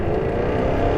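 Jaguar F-Type R supercar exhaust note, a loud, dense and steady low rumble with a continuous engine drone held close throughout, with no talk over it.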